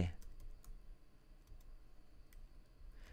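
Scattered clicks and taps on a computer keyboard come as a label is typed into spreadsheet or modeling software, quiet and close, in a short irregular burst of keystrokes.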